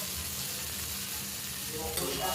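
Chopped tomato goes into onion, ginger and garlic already frying in a pan for a Bengali crab curry, giving a steady, close sizzle with light stirring throughout.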